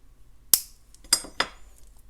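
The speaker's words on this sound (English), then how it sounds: "Snip off the excess" Three sharp metallic snips ring out as cutters trim excess beading wire after crimping, the first isolated and the last two in quick succession, close and distinct against near silence.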